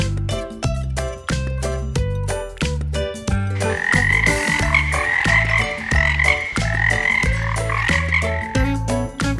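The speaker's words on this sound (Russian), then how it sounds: "Лягушка." A frog croaks in a steady, rhythmic series of loud, close calls, repeated pulses continuing throughout, joined midway by a higher chorus of other croaking frogs in the background.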